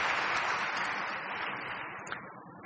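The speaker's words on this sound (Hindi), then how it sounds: "ताली बजाओ" An audience at a spiritual talk breaks into steady clapping, a dense continuous patter of many hands that fades gradually toward the end.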